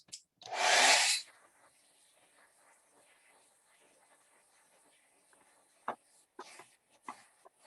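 A hair dryer blasting briefly to dry acrylic paint on canvas, a loud close whoosh lasting about half a second, followed by quiet room sounds and a few soft knocks.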